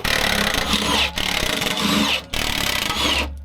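A power tool gun drives bolts on a vehicle, whirring loudly and continuously in three long runs separated by brief pauses, with no talking.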